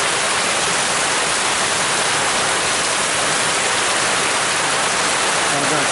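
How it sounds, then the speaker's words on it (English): Rainwater gushing out of a gutter on a rainy day, a loud, dense, continuous rush of splashing water with steady falling rain all around. "Water pouring out the gutter over there."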